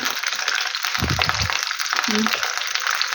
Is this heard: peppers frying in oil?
yes